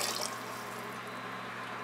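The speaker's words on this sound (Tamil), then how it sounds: "நல்ல தண்ணி சேர்த்துக்கலாம் ரசத்துக்கு" Steady rush of water poured into a cooking pot for paruppu rasam, a continuous pouring stream with no pauses, fairly close and moderately loud.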